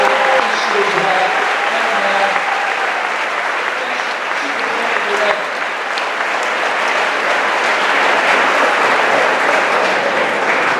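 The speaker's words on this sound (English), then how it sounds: "How about a round of applause for the next high school principal" Sustained, dense audience applause fills a school promotion ceremony hall, steady and loud throughout with a faint voice briefly audible early on.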